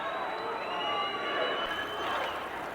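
A hockey crowd at a 1984 national championship game keeps up a steady roar of cheering and chanting, dense and continuous, with no clear breaks.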